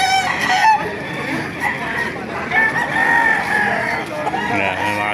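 Roosters crowing and chickens clucking at a busy outdoor chicken market in Baliuag, Philippines, calls overlapping through a steady background din.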